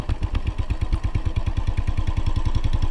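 A training motorcycle engine runs at an MSF rider course, its rapid, steady firing pulses loud and close and holding a constant beat across the whole stretch, with no voice over it.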